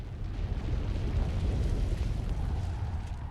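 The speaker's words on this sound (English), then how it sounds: "Missile barrage!" A missile barrage in the video game Mega Man X8: continuous deep, rumbling explosions blending into one heavy roar that holds steady throughout, with no voices.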